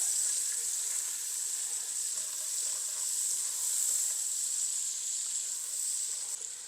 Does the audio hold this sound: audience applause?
no